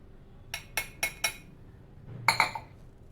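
Utensil clinking against a bowl while coconut milk is mixed into coconut cake batter: four evenly spaced bright clinks, a short pause, then a quick cluster of two or three more, close and clear with no speech.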